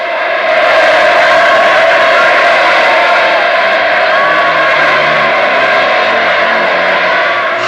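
A huge crowd at a North Korean state ceremony cheers enthusiastically, a dense continuous roar of many voices sustained at high, even loudness from start to finish.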